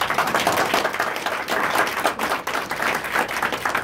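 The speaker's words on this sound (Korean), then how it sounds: "앞으로 더 많은 노력을 해주시라고 격려의 박수 다시 한번 부탁드리겠습니다." Audience applause at a Rotary Club tenth-anniversary ceremony, with a dense, steady round of clapping from many people filling the room and continuing without a break.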